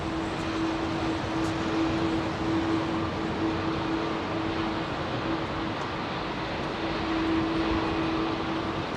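Air Canada airliner in new livery on runway 27R at London Heathrow, a loud steady jet roar with a sustained engine tone, continuous throughout and with no talk.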